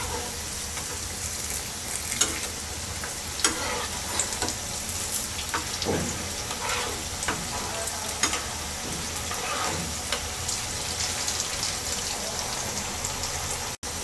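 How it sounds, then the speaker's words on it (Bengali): Cauliflower kebabs fry in a kadai of hot oil at medium-low heat while being turned over, a constant close sizzle broken by scattered sharp pops and crackles. "কাবাবগুলো উল্টিয়ে দিচ্ছি।"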